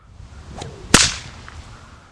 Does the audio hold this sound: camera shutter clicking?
no